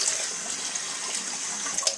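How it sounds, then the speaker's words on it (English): Water runs steadily over sprouts held behind a screen as they are rinsed, a bright, continuous hiss of pouring and splashing with a brief sharper splash near the end. "I'm going to rinse it a couple times."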